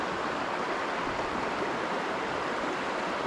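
Strong, swift river water rushing in a steady, dense roar with no breaks, close by and fairly loud, from a stream being searched for crayfish after rain.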